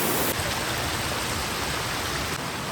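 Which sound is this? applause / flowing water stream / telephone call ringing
flowing water stream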